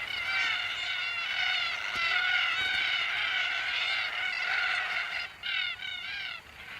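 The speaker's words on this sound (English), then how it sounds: "Red-tailed black cockatoos join in the fun." A flock of red-tailed black cockatoos near peanut fields gives harsh, rasping, repeated calls, with several birds overlapping in a continuous chorus, followed by a few separate calls at the end.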